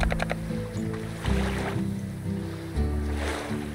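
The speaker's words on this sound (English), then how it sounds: "Oh, he actually splashed." Slime splashing into water in the game Slime Rancher, a watery surf-like wash layered over a steady in-game musical backdrop, with swells of water noise rising and falling through the moment.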